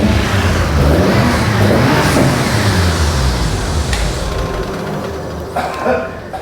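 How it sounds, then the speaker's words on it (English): A 2002 Cadillac Escalade EXT with an LQ9 engine, just cold started, revs hard near the listener with a rising roar that eases off toward the end, with brief faint sounds over it. "He just cold started and went straight to boost."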